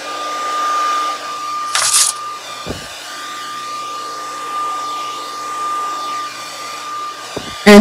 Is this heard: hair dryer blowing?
yes